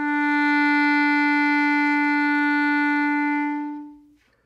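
A single sustained clarinet note, E, held steadily for about four seconds, clear and close, then fading out.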